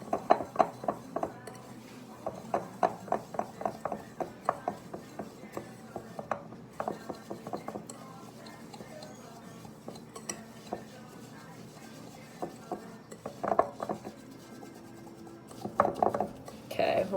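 Cookie dough of seed butter, coconut oil and coconut sugar being mixed hard by hand in a bowl, with repeated scraping and clinking of a utensil against the bowl in uneven bursts, close and fairly soft.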